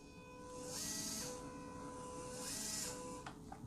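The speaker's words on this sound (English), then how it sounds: "if you just move this forward and backwards really slowly, that winch will move slow, so you can hear how slow it is" A motorized winch on a WPL RC truck runs slowly, producing a thin, steady electric motor whine in two drawn-out passes close to the mic, followed by a few small clicks.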